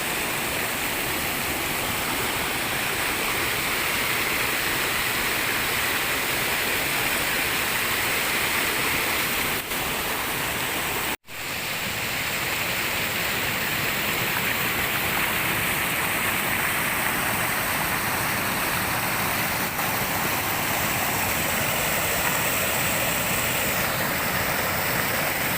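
Steady, loud rushing roar of falling water, continuous and full, like standing close to a waterfall, with no voices.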